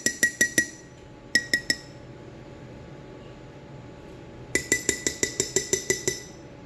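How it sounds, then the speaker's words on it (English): Bright ringing clinks of a metal spoon tapped against a glass jar, three quick bursts of rapid taps separated by a quiet pause, close and loud. "I hate banging that metal spoon on that glass jar."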